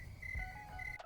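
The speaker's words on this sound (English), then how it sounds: "I can hear the crickets chirping." Crickets trill faintly and continuously in a quiet setting, a thin steady chirping over low background noise.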